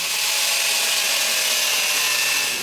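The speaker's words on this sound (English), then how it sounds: "Going to cut it off at a 45-degree angle to make forging the point easier." A saw cuts through 1075 steel bar stock at a 45-degree angle, giving a steady, loud, close hiss that holds evenly throughout with no pauses.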